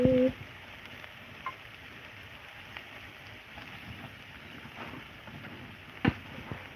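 Shrimp frying in a pan give off a steady, soft sizzling hiss throughout, with a couple of brief clinks or knocks at the start and near the end.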